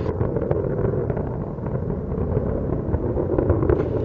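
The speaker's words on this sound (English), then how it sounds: "The engine's beginning to throttle back up" A deep, continuous rumbling roar of space shuttle Atlantis's main engines throttling back up during ascent, heavy and steady in the low end with a crackling, wind-buffeted texture.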